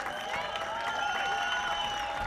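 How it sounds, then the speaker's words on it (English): Applause from the Turkish bench and crowd at an IBSA Blind Football European Championships match in Berlin, Turkey against Belgium, a steady wash of clapping and crowd noise with no individual claps standing out, moderately loud throughout. "And also a big round of applause given to her by the Turkish bench"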